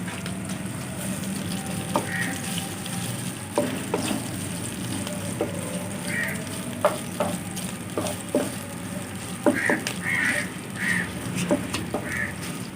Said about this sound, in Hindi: ऑयल डालेंगे 3 से 4 खाने के चम्मच। हल्का सा फ्राई करेंगे।